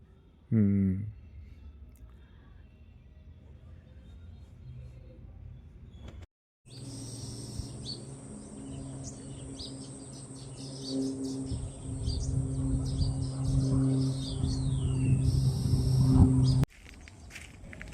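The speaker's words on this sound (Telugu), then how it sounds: "ఆ పిచ్చుకల బడ్స్ సౌండ్కు అసలు చల్లగా అనిపిస్తుంది" Sparrows chirp and twitter busily in the background over a steady outdoor hum, with faint voices and clatter nearby.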